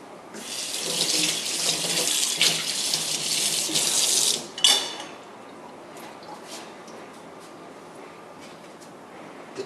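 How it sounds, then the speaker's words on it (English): Tap water pours into a pressure cooker for vegetable stew: a loud, steady close rush for about four seconds that cuts off abruptly with a clunk, leaving quiet room tone. "So now the water's basically filled up."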